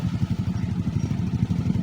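Motorcycle engines strain up a steep mountain trail, a low, rough, pulsing drone with rapid rhythmic throbbing, close and continuous, with no voices.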